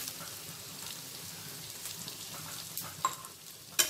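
Toor dal frying on medium flame, a faint, even crackling sizzle with light stirring and a couple of sharp metallic clicks near the end.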